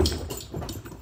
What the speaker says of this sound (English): the dogs are playing. You can hear them upstairs.